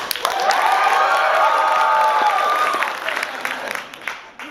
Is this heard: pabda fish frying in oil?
no